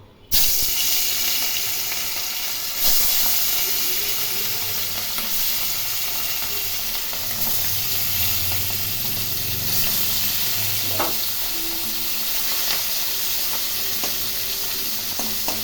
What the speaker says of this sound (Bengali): তেল গরম হয়ে গেছে এখন এর মধ্যে ইলিশ মাছের টুকরোগুলো